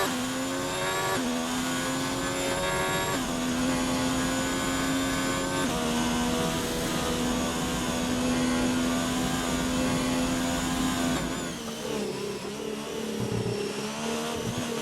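A Formula-style race car in a racing video game league event on the Italy circuit runs a fast lap: a loud, continuous high engine whine that climbs steadily, with clear gear shifts breaking the pitch every couple of seconds.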